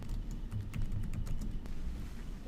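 Soft, rapid clicking of keys as someone types on a laptop keyboard, an irregular patter of light taps close to the microphone with no talking.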